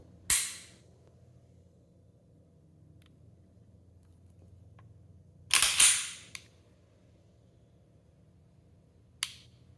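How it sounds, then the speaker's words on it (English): Springfield Armory XDM pistol giving three sharp, isolated mechanical clicks in a quiet room: one near the start, a louder doubled click midway, and a faint one at the end. "It's just the click, the reset that I'm used to kind of hearing and feeling for"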